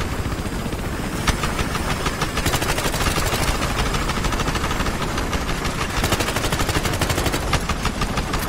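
Battlefield Hardline helicopter cabin with its engine roaring steadily while rapid gunfire rattles in long overlapping bursts, loud and constant throughout.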